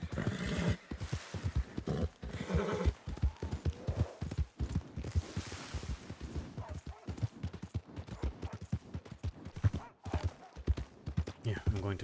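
Horse hooves clip-clopping in the Red Dead game world on the WildRP server, steady rhythmic hoofbeats with occasional neighs, heard under ongoing conversation between players.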